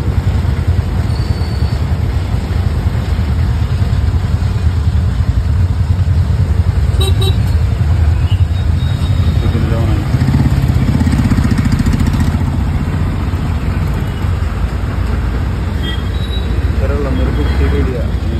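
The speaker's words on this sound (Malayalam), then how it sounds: "നമ്മുടെ ലൈൻ ബസ്സിലാണ്" Inside a running line bus, a steady loud engine rumble and road roar fill the whole ride, with faint horn toots from nearby traffic now and then. Voices talk under the noise.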